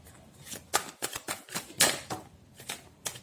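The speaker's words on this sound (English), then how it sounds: "I'm shuffling in front of you, but cards are falling." Tarot cards shuffle close by in quick irregular bursts, crisp riffling slaps and flicks of the deck repeating several times with short pauses between.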